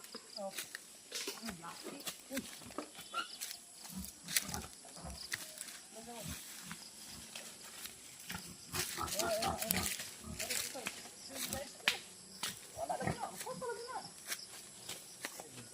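Pig squealing in short loud bursts at a rural outing to Anoyon, Valencia, the shrill cries repeating irregularly while several people talk and shout nearby.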